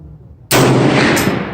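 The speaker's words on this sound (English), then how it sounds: "And I'll be taking my fifth shot." A single loud, close rifle shot from a Bear Creek 450 Bushmaster fired at a 50-yard target, a sharp blast after a brief quiet lead-in, with a booming tail that rings out to the end.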